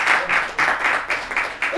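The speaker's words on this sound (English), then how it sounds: "give her a round of applause" Conference audience applauding a speaker, a rolling burst of clapping that surges and dips in loudness, fairly near and filling the whole moment.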